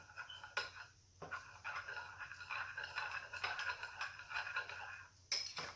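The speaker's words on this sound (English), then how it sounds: "I'm going to mix it." A utensil scrapes and clinks against a bowl as a mixture for baked eggplant is stirred with water in steady, uneven strokes, close by and fairly quiet.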